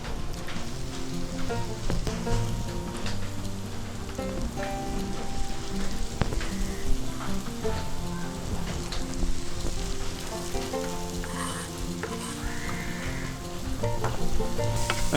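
Chopped onion fries with garlic in a pan, a dense, steady sizzle and crackle that runs throughout, with occasional stirring scrapes and no voices.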